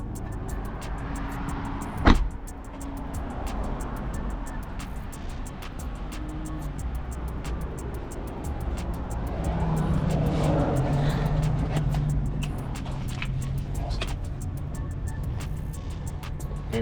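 BMW F80 M3 engine idling steadily with the fuel pump module disconnected, running on until it starves of fuel; a low continuous rumble with a brief sharp knock early on and a faint voice at times.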